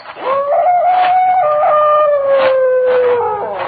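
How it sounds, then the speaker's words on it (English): A lone dog howls across a lake at night, one long sustained wavering cry lasting several seconds, fairly loud and clear with no talk over it. "From somewhere across the lake, I heard the cry of a dog"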